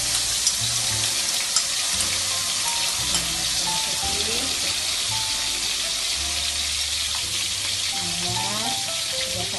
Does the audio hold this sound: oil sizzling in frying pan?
yes